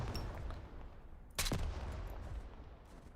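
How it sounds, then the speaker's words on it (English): Mines exploding in a video game, a burst of sharp blasts and crackling bangs, with one loud close detonation in the middle and fainter rumbling around it. "the explosions of the mines are insane"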